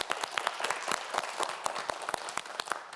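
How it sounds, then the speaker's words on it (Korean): Studio audience at a televised quiz show clapping together, a brisk burst of many hands with distinct close claps over a soft crowd wash, moderately loud and with no talk on top. "여러분 박수 한번 보내주세요."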